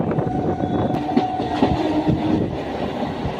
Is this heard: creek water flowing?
no